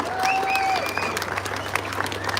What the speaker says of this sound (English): Give him a big round of applause as he comes up.